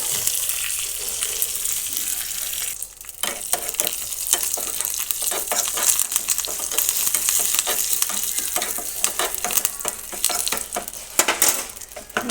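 Cumin, mustard seeds and curry leaves sizzle in hot oil for a chutney tempering. A loud, continuous crackle and spit comes close up, with occasional clinks of a spoon stirring the pan.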